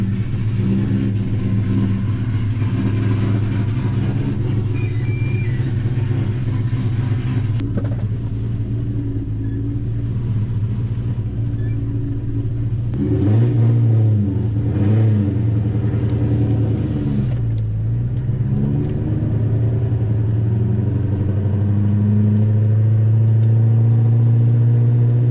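A Ford Mustang Terminator Cobra engine idles with a steady, close, low rumble, then revs up in a few sharp bursts before settling back to a loud idle.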